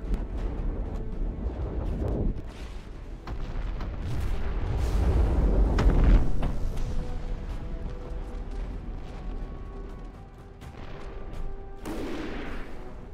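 Shotgun plasma cannon firing in the game From The Depths, heavy booming blasts with rumbling aftermath and sharp cracks scattered across the stretch, no talk.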